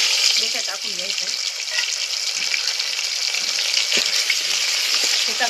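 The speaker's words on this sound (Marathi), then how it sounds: "आता यामध्ये हे तेल गरम झाले, हे भेजा टाकून घ्यायचं" Crab brain is fried in hot oil in a pot, a close, steady hissing sizzle with soft crackles throughout and faint voice-like sounds mixed in beneath it.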